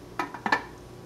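A few light clinks and rattles of home decor items shifting inside a shopping bag, four quick knocks spread over about a second, faint and close with no talk.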